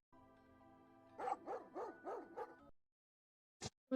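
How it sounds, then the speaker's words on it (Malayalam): A dog gives a quick run of about five rhythmic barks over a steady humming background tone, followed by silence and a couple of brief sharp sounds. "ഇത് നമ്മുടെ റിപ്പിന്ദ്ര ഡോഗ്."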